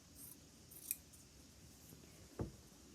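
Scissors cutting up a T-shirt sleeve through the underarm seam, two quiet, brief snips spaced apart over a faint background hush.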